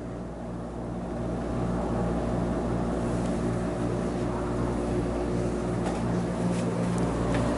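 A steady mechanical hum and whir of a Samsung 12,000 BTU air conditioner motor, running on 127V through an autotransformer, continues nearby with a low droning rumble and faint rattling textures.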